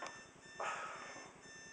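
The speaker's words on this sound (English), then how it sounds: "I got my alarm going off now." An alarm clock goes off with faint, steady repeated electronic beeping under low room noise. A brief rustle or bump comes partway through, and no one speaks.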